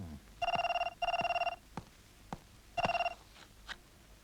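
An old-style telephone bell rings in three bursts of rapid trilling with gaps between, fairly near, with a few knocks in between and no talk.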